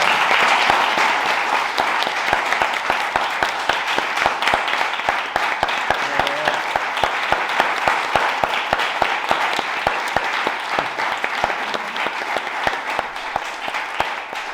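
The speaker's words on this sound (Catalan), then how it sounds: "I ara ja per acabar us demano un aplaudiment per l'autor" Sustained audience applause fills a book launch presentation for a novel, a dense steady wash of many hands clapping for the author, loud and even throughout with no talk over it.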